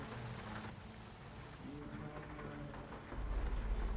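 Steady rain falls on a truck stopped at a stoplight in a soft, continuous patter, with a deeper rumble swelling near the end.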